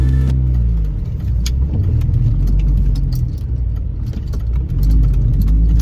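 An R53 Mini Cooper S engine hums at close range, loud and steady, as the car pulls away under acceleration, with a brief lull midway and no speech over it.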